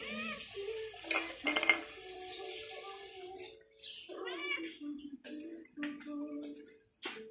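A cat gives several short, close meows in a row, following some light clattering and rustling at the start.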